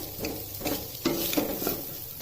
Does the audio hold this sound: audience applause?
no